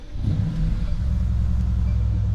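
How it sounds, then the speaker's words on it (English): A 2016 Mercedes-AMG GT S engine fires up with a quick starter burst, then settles into a loud, steady, deep low rumble at idle, close by and alone with no talk. "we are going to fire her up and see what she sounds like"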